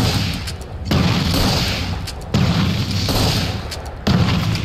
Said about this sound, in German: jetzt kann ich hier Leuchtkugeln verschießen